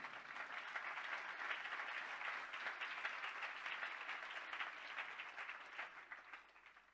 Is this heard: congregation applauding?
yes